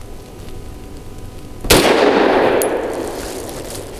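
A single sharp 9mm pistol shot fired with Liberty Ammunition Civil Defense rounds cracks loudly, and a ringing decay trails off over the next two seconds.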